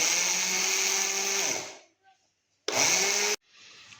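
An electric grinder whirring loudly as it grinds rice for kofta, running in two bursts with a short silent gap between them and the motor winding down after each.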